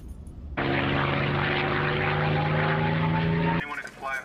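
DJI Mini 2 drone flying outdoors, a sudden steady propeller whine with strong tonal buzz that holds for about three seconds and then cuts off abruptly.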